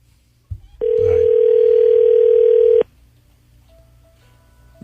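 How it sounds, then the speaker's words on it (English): A steady telephone dial tone sounds loudly for about two seconds after a brief click, then stops, leaving a quiet room with faint background hum. "Dial it. Just dial it on the keypad."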